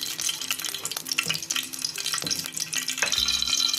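Chopped onions hitting hot oil in a frying pan, a close, bright sizzle with clattering stirs and scraping, then a denser hiss swelling toward the end.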